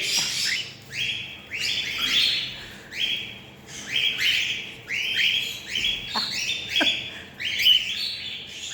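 Small pet birds chirp steadily nearby in a home, a dense run of quick high tweets and squawks repeating in pulses with no talk.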